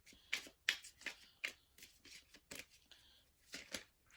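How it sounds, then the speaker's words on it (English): Tarot cards shuffled and drawn by hand, a series of crisp papery snaps and riffles in an uneven rhythm, close and fairly quiet, with no talking. "I'm going to grab two more cards."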